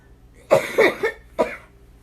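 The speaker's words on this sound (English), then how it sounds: "And everybody's coughing now." Two short coughs, the first a quick double burst, then a single cough a moment later, fairly close and clear.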